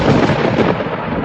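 A cartoon sound effect of thunder with rain, a loud, dense rumble that fills the short moment, with no voices.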